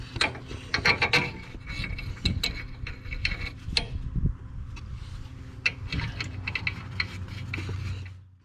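A ratchet clicks in short irregular bursts while tightening leaf spring bolts on a 2004-2008 Ford F150, close metallic ticks and knocks over a low steady hum.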